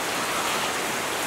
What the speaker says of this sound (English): Oh, look, here's the rain for all of our freshwater plants and animals.